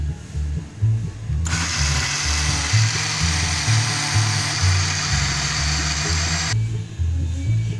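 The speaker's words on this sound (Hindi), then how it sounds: "अब ये मूंग की दाल ग्राइंड कर रही हूँ मैं।" An electric kitchen grinder whirs loudly as it grinds soaked moong dal into batter for dahi bhalla. It starts abruptly, runs for about five seconds and stops sharply, with a low background hum before and after.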